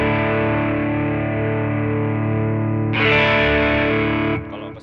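Electric guitar run through the cab-sim section of the RPM Pedals Strips Last Lie multi-effect pedal: a held distorted chord sustains, a brighter, fuller strum cuts in midway, then decays into softer string noise, loud with no talk.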